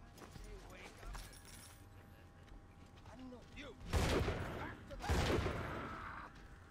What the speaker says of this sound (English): I do like using the shotgun